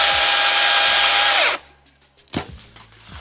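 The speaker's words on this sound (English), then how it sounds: "And now he's cutting off the tops with a chainsaw." Powered saw cutting off the tops of wooden posts during an off-grid outdoor kitchen build, a loud steady high-pitched motor whine for about a second and a half, then cutting off into scattered knocks and clatter.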